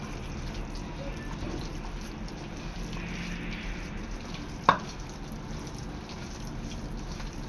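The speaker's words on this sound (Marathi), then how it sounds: "संपूर्ण मिश्रण एकत्र मिक्स करून घ्यायचं आहे" Chicken kebab mixture is worked together by hand, giving a soft, continuous squelching and stirring with one sharp knock partway through.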